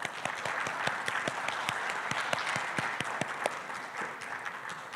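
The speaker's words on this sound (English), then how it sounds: "And a round of applause, please." An audience at a business panel event applauds a bank chief executive joining the stage, a moderate steady patter of many hands clapping, fairly distant and fading slightly toward the end.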